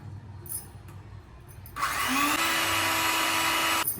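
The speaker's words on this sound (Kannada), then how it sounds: "ಚೆನ್ನಾಗಿ ಬ್ಲೆಂಡ್ ಮಾಡ್ಕೋಬೇಕು" An electric blender whirs a no-bake avocado cheesecake mixture, starting abruptly after a quiet moment, then running loud and steady nearby before cutting off.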